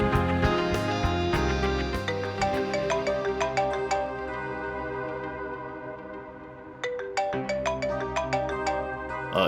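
A mobile phone ringtone plays a bright, repeating melodic tune, loud and close, with a short pause partway through before the melody starts again.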